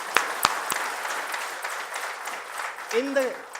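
Hands clap at a company rededication day event, a thin scatter of applause with a few sharp near claps at the start, then a voice breaking in toward the end.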